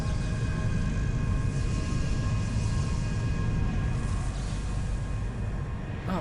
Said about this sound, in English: We're gonna do some afterburner action.